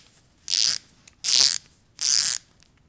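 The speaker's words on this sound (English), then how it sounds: "When you reach the preset torque, you'll feel it and hear it." An EToolLab TW26N Pro torque wrench clicking as it reaches preset torque, three sharp, loud ratcheting bursts spaced evenly about three-quarters of a second apart, close up with no talking.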